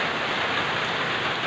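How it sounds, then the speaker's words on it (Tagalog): Heavy typhoon rain in Cabugao, Ilocos Sur, Philippines, pouring steadily as a dense, even hiss, loud and close, with no voices. "Ulan lang siya ng ulan."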